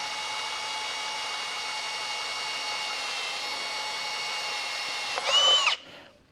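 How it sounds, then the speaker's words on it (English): Power drill boring a hole through the middle of a plastic carburetor part, a steady high motor whine held for several seconds, then a brief louder grinding burst as the bit cuts through before stopping. "drill us out a nice hole right in the middle of that"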